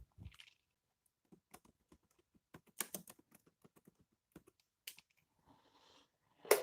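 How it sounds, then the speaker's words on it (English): Keys on a USB computer keyboard click in scattered, uneven taps, close and fairly quiet, with a few brief bursts of faster typing between pauses. "I have my faithful keyboard, USB keyboard for those emergencies"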